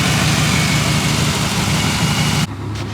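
A turbocharged TBI 5.7 liter 350 V8 idles loudly with a steady low rumble, then the sound abruptly drops in level near the end.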